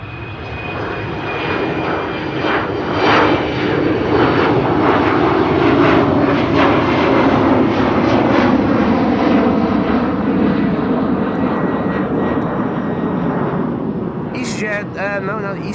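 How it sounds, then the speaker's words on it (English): An Embraer 190 jet in SkyTeam livery taking off at Amsterdam Schiphol, a loud sustained engine roar building and holding steady, with a rising whine near the end and a voice talking over it. "The Embraer 190 in the SkyTeam livery taking off in the meantime."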